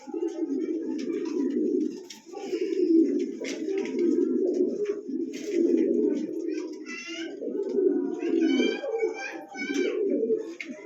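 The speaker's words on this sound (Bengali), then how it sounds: "স্ক্রিনে আরও একজোড়া কবুতর আছে" Pigeons coo over and over in a steady, throaty rumble, close and fairly loud, with brief pauses between the coos and some thin chirps on top, and no one talking.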